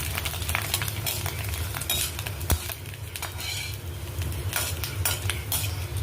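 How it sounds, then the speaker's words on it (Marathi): Dried sabudana pearls fry in hot oil for chivda, giving a steady soft sizzle with scattered scraping and stirring clatter of a utensil in the pan. "हा आपण तेलामध्ये टाकून तळून घेऊ चांगला फुलतोय आपण साबुदाणा"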